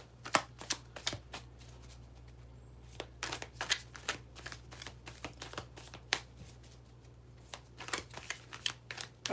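Tarot cards are shuffled close up in quick, crisp riffles and flicks, repeating bursts of papery slaps over a faint low hum, with no talk.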